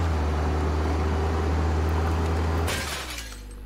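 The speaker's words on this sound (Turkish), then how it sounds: "Camın tam bir kırılması lazımdı." In the Contraband Police video game, glass shatters in a sudden crashing burst that fades quickly, breaking through a steady, low engine-like rumble.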